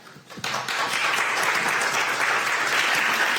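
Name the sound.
applause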